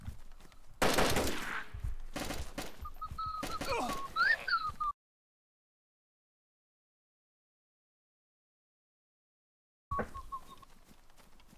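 Gunfire in the DayZ survival video game: a dense burst of loud rapid shots and impacts, followed after a silent gap by a few more faint reports, with no talking.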